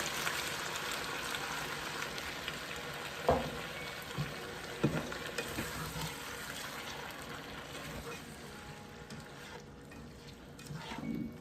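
Garlic sizzling in a cooking pot gives a soft, steady crackle, broken by a few sharp clanks and splashes as water is poured in, then the frying settles to a quieter bubbling hiss.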